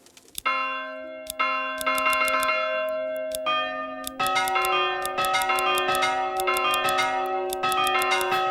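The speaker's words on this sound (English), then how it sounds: "Do we need to set the bell sound?" Church bells ring in the Manor Lords medieval city-building game, a sequence of clear, resonant strikes that build into a dense, overlapping peal with long sustained tones, loud and alone without talk.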